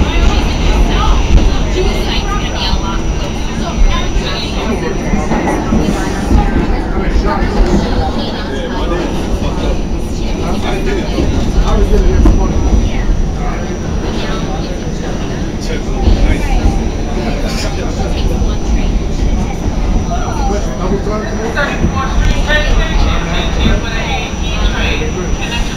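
Ride aboard an R46 subway car on the New York City C line between Times Square-42nd Street and 14th Street: a loud, continuous rumble and rattle of the train in the tunnel, with a faint steady whine and surging wheel and track noise.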